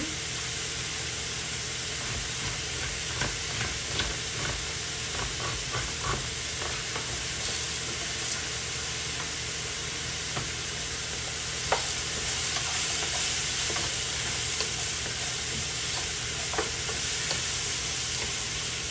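Onion cooks in a frying pan with a continuous close sizzle and hiss, punctuated by occasional stirring scrapes and taps, steady and fairly loud throughout.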